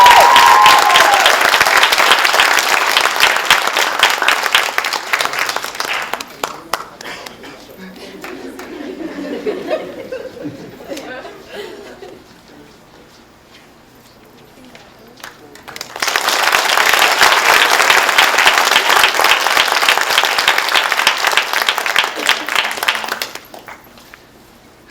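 An audience at a Kappa Delta Pi honor society induction ceremony breaks into loud applause, which fades to a quiet lull with faint murmuring before a second full burst of clapping swells up and then cuts off.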